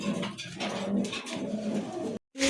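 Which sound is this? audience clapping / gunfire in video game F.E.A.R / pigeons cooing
pigeons cooing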